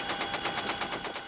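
Machine-gun fire from gunners at an exposed British military base in Afghanistan as helicopters approach, a rapid, even rattle of about ten shots per second, moderately distant and unbroken.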